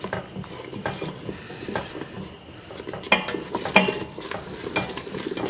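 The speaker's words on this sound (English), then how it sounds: "Alrighty, it's boiling nice now." Mac and cheese sauce boils in a pot, bubbling and stirring, with spoon scrapes and clinks against the pan, fairly close and steady with a few sharper knocks.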